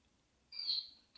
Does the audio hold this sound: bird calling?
yes